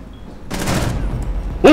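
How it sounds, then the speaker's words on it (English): A breaching round fires in Rainbow Six Siege, a sharp loud blast that rings briefly and fades, followed by a second quick burst near the end. "the breaching round went"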